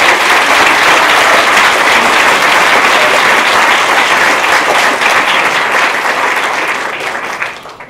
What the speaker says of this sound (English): So everybody, let's get another round of applause.